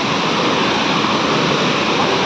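Furli Jharan waterfall in Kalahandi: a loud, unbroken roar of falling water, close up and filling the whole moment with dense rushing noise.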